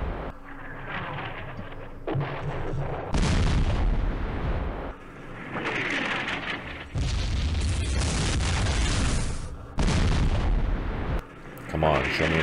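Artillery barrages in the wargame Campaign Series Middle East: repeated loud, booming broadband blasts in several sustained bursts across the clip, with shorter gaps of quieter rumble between them.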